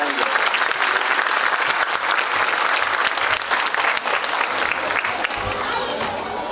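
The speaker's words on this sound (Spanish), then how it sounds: "Un aplauso para ellos." Sustained crowd applause at a gala folk-rock concert celebrating a city anniversary, greeting school educators; dense, even clapping fills the whole stretch at steady loudness without a break.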